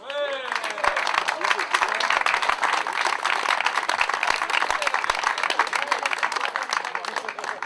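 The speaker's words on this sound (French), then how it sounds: "Sur un tonnerre d'applaudissements" Thunderous applause from a crowd at an event ceremony, dense continuous clapping with sharp individual claps standing out and voices audible underneath.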